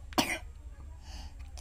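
A child coughs twice, close and fairly loud, with a short sharp cough at the start and another right at the end, with quiet room noise in between.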